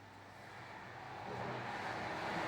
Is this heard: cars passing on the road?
yes